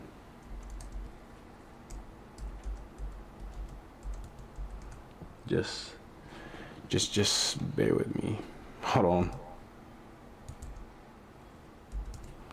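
Computer keyboard typing in quick bursts between about five and nine seconds, fairly close, with a person talking intermittently over quiet background hum.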